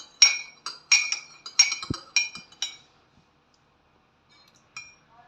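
A spoon clinks against a cup of green tea in a quick run of bright metallic taps that slows and stops, followed by silence and one faint last clink.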